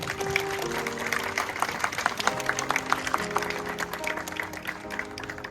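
Wedding guests clapping for the couple, a moderate wash of applause with some music or tones underneath, steady throughout.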